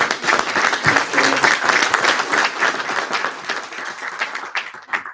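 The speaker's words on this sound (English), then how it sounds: "let's give our candidates a round of applause." An audience at a county office of education candidate forum claps for the candidates in steady, dense applause lasting throughout, loud and close, fading slightly toward the end.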